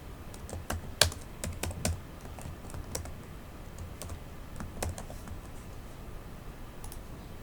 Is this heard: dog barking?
no